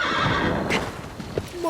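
Agro the horse from Shadow of the Colossus whinnying, a close, loud neigh with hoof clip-clops, briefly heard over game ambience.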